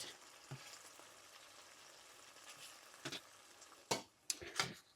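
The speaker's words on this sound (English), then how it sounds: "I'm going to flip all of these and let them cook for another 2 minutes on the other side." Batches of steak strips sizzle softly in a pan at a low level, with a few sharper clatters and scrapes near the end as the pieces are flipped with a utensil, no talk.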